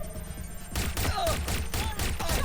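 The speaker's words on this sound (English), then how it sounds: "Am I being shot from someone up here or what?" Gunfire in Watch Dogs Legion, a dense rattle of repeated shots that swells after a quieter start and keeps going, with faint game effects mixed in.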